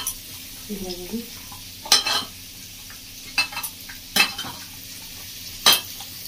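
Mutton being mixed by hand with spices for a village-style curry with raw papaya, heard as wet squelching and intermittent sharp clinks of utensil against a metal bowl, close and sporadic over a quiet background.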